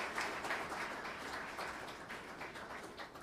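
Applause rises from the audience at a research award ceremony as a recipient comes forward, a fairly quiet, continuous patter of clapping.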